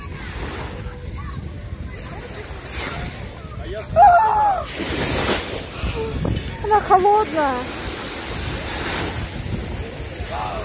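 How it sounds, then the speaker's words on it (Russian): Ocean waves washing on a shore on a summer day, a soft continuous surf rush under wind noise, with people talking close by. "О, волны."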